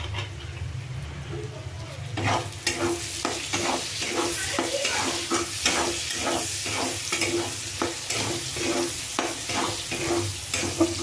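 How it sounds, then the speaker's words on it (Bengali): Chopped tomato goes into onions frying in a pan for chicken kosha, followed by a quick rhythmic run of stirring strokes over a steady sizzle. "পেঁয়াজগুলো একদম লাল লাল হয়ে গেছে, এর মধ্যে আমি দিয়ে দেবো টমেটো কুচি"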